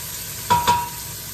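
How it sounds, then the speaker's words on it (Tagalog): Onion sautés in a pan under a soft, even sizzle, interrupted by two quick, close scraping strokes of a spatula in the middle. "lutuin nyo lang yung sibuyas para masarap. Ganon! Igigisa yun ninyo"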